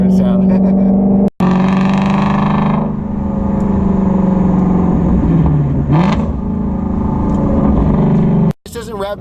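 A Shelby GT350R Mustang engine drones and revs loudly from inside the cabin while driving, the pitch sliding down and climbing again around gear changes, with brief dropouts.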